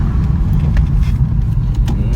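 A Lexus IS250 accelerates after a spark plug replacement, a loud, steady low engine and road rumble heard from inside the car, with no voices.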